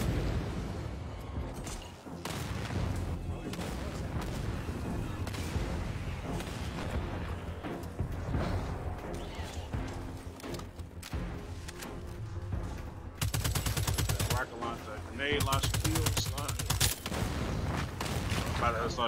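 Sustained automatic gunfire and booming explosions fill the Second Extinction video game battle, dense and loud throughout with brief gaps, while a player talks over the shooting.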